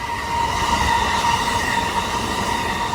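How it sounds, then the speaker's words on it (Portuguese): An express train in Japan rushes past close by, a loud continuous roar of wheels and rails lasting the whole stretch, with no talking. "É um trem expresso."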